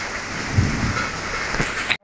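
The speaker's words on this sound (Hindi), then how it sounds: "बारिश हो रही है" Steady rain pours down with a dense, hissing wash, cutting off abruptly at the end.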